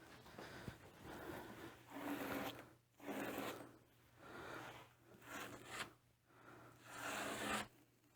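A spreader scrapes joint compound across a stencil on a piece of furniture in repeated soft, raspy strokes, each pass a few seconds long with short pauses between.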